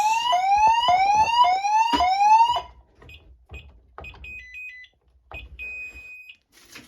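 A security system alarm sounds during a test, a loud rising electronic siren sweeping up in repeated whoops for a few seconds, then dropping away to sparse steady beeps and tones with quiet gaps between.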